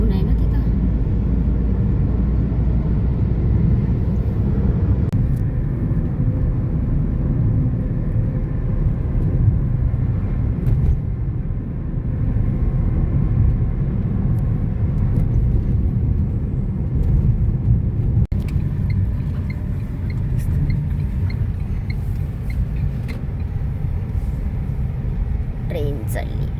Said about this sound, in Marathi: ट्रेन चालली, गेट बंद.